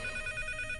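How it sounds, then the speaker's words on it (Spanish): A telephone rings with a steady, sustained electronic tone for under a second, fairly faint and without any talking. "¡Ay, maldito teléfono! ¡Ya deja de sonar!"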